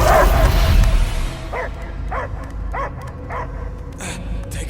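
A dog barks several times in an even rhythm after a burst of loud rumbling in the video game Guardians of the Galaxy, the barks moderately close over a low background hum.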